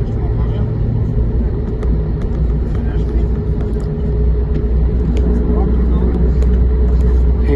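Car driving back from the beach to the hotel, a loud continuous low road rumble and engine drone filling the whole stretch, with people talking inside the cabin.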